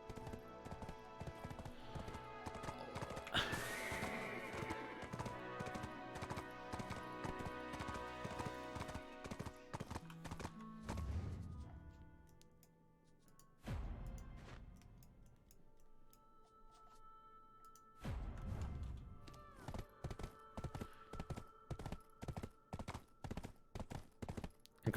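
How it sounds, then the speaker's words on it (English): Rapid rhythmic hoofbeats of a horse in Black Desert Online clatter steadily throughout, with a brief whinny early on and a few pauses, alongside a layered game soundtrack. "this is a slow tier 8 horse"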